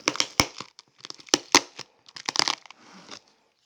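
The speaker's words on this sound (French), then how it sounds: "On va enlever les scotch." Sharp crinkling and tearing bursts come in quick irregular bunches as packing tape is ripped from a knife package nearby.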